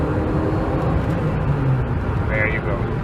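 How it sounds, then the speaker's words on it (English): A Lancia Delta HF Integrale engine drones steadily with a low rumble throughout, fairly loud and continuous, with faint road noise mixed in. "Let's hear the engine a little bit."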